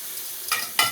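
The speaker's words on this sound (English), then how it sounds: "Getting a nice sizzle." Butterflied leg of lamb sizzles on a small Weber Smokey Joe charcoal grill, a steady close hiss with two sharper bursts of crackle as the meat settles onto the grate.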